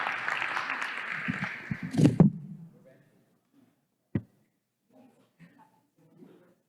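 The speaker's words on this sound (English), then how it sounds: "Let's give both of these teachers a very big round of applause" A meeting-hall audience at a Newark Board of Education session applauds two science teachers. The dense clapping swells briefly, then fades out within a few seconds, leaving near silence broken by a single knock and faint murmurs.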